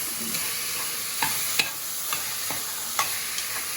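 Cauliflower and green peas sauté in a pan with a continuous soft sizzle, while a spatula stirs them in a few light, irregular scraping taps, close and steady with no speech.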